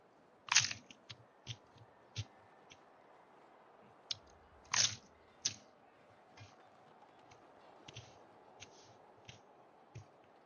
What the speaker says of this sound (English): I don't know if you guys can hear that crunch, but they were at the bottom of my pizza